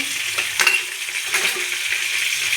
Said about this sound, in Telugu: ఇలా హీట్ అయిన ఆయిల్లో ముందుగా మినప్పప్పు కొంచెం కందిపప్పు